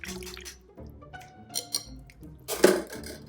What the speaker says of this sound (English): I'm giving one more stir here.